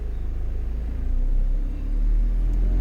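A Honda CR-V engine, recently repaired for a vibration fault, idles with a steady low rumble close by, the pitch lifting slightly partway through, with no talk.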